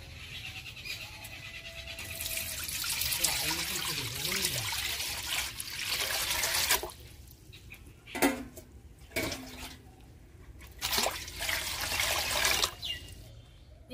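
Water poured over grated raw potato in a bowl, a soft rushing pour lasting several seconds, followed by a few scattered knocks and splashes, fairly quiet overall.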